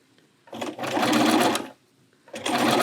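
A sewing machine stitches a Christmas quilt block slowly, running in two close bursts of rapid mechanical clatter separated by a short pause.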